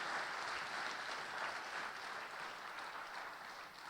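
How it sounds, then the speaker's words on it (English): A conference audience at the Typographics 2016 design event applauds a speaker who has just finished, a steady, dense wash of clapping that holds evenly for several seconds at a modest, slightly distant level. "Let's give him a round of applause."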